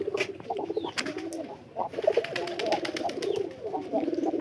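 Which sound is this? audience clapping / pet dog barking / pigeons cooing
pigeons cooing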